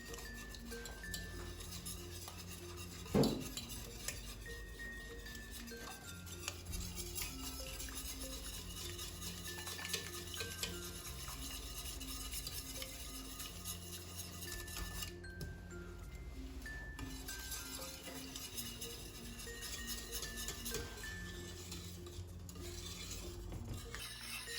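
Butter, lemon and eggs are stirred in a pan, giving a soft, continuous scraping with occasional light clinks of utensil against metal, faint and steady throughout.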